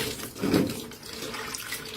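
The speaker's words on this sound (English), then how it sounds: "we're going to rinse it until the water runs clear." Delicate silk is rinsed under running tap water, with a steady close splashing flow and a brief louder gush near the start.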